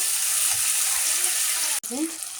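Chopped garlic sautéing with dried lotia fish and potato in a pan, a steady broadband sizzle with a brief sharp clatter near the end, close and moderately loud.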